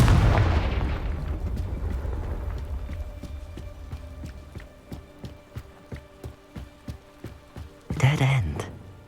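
A Confringo fire spell bursts in the Hogwarts Legacy video game with a loud blast at the start, followed by a steady run of light footsteps and a second sharp burst near the end.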